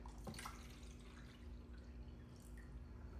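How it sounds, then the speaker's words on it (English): Water pours into a container at close range, a soft, steady splashing and dripping stream running alone at low level for a few seconds. "Let's get some water poured in here."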